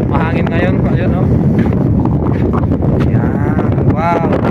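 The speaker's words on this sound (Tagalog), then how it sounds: "Mahangin ngayon pa yun," Strong wind at a beach in Sulu, Philippines, buffeting the microphone in a steady loud roar the whole time while a person talks over it.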